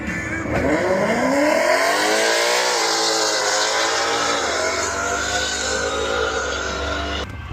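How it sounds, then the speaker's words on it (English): Ford Mustangs racing at Bradenton Motorsports Park, loud engines revving and accelerating close by with rising pitch sweeps and a sustained roar that holds steady throughout, with a brief tire squeal. "I'll just push up and we'll watch these Mustangs race real quick"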